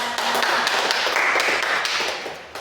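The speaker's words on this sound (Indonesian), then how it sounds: "Tepuk tangan untuk kita semua." Audience applause at an Indonesian panel discussion event, a burst of quick, close clapping that fades toward the end, with no talk over it.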